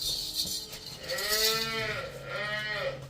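A black Jersey cow on a farm gives two drawn-out moos, close and fairly loud, with faint background noise and no talking.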